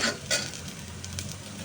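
Roasted dalia mixed with moong and masoor dal goes into vegetables frying in a pan: a brief clatter as it lands, then a continuous close sizzle with faint stirring.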